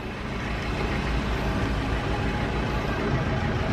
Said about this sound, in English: the sound while the engine is still running.